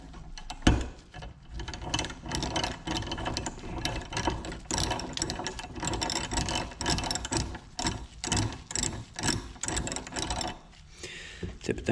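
A tool being screwed onto a Kawasaki KFX400 engine case, producing close, continuous ratcheting clicks and metallic turning noises in a busy rhythm, with someone briefly talking.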